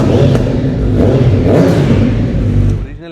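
A 2017 Kawasaki Ninja 650 superbike with an Arrow exhaust, revving loudly and close with a deep rumbling roar that builds and then drops off near the end.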